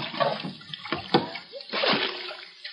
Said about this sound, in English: We'd better start working the bucket, Asa. There must be a foot of water in the boat already.